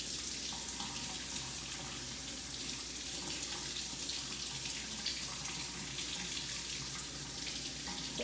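A kitchen tap runs steadily into a sink, a constant hissing stream of water that holds at an even level throughout with no talk.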